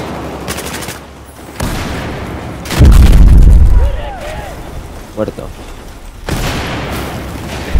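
Explosions and gunfire from the Battlefield 4 video game, a heavy deep boom burst mid-clip among scattered shots, with players talking over the action.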